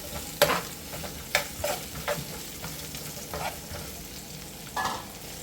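Onion sizzles steadily in a frying pan while a utensil scrapes and stirs in intermittent strokes, close up.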